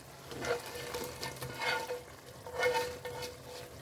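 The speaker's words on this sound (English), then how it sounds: "now I'm going to add my bacon." Bacon and its grease sizzling in a pan, a steady crackling fry with a few louder swells as it is stirred or settles, moderately close and without talking.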